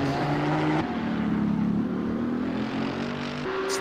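Nissan GTR and McLaren race cars at Laguna Seca in a racing sim: a loud, steady engine drone with shifting pitch and gear changes, close and continuous, no voices.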